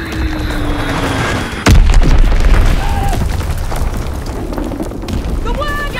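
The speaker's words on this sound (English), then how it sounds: "Azon bomb mission underway." Azon bomb explosions in Call of Duty WWII team deathmatch on Xbox One land as a heavy boom that bursts in suddenly and rumbles on loudly, with gunfire and other battle noise around it and voices talking.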